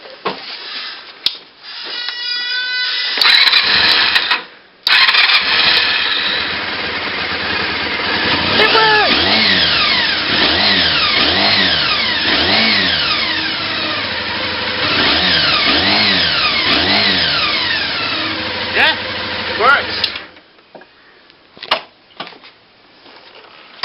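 A 1989 Honda VFR 400 motorcycle engine with its restrictor kit removed, running close by and blipped repeatedly through a long string of rising and falling revs, loud and steady for about fifteen seconds before cutting off.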